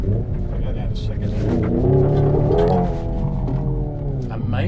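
A 2024 Hyundai Ioniq 5 N electric car drops to second gear on loose gravel. Its loud synthetic engine note swells in pitch, then eases back down, holding a continuous roar for several seconds.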